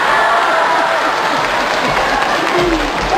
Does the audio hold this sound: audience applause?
yes